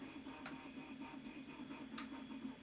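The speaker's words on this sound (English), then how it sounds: "3D printer's going." A 3D printer running in a home machine shop, a faint steady mechanical hum with soft ticking and occasional brief whirring sweeps of the print head, quiet and distant in the room.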